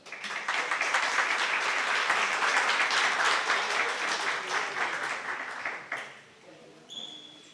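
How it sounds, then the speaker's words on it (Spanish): Sustained audience applause welcoming a professor to a lecture, dense clapping holding steady for about six seconds before tapering off abruptly, followed by faint room noise and a brief scrape. "recibamos con un aplauso"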